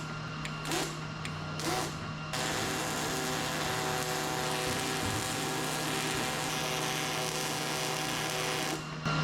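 Quick, tiny tack welds on a custom truck hitch for a 1963 Loadstar crackle in two short bursts, then a loud, continuous buzzing drone fills the rest of the stretch.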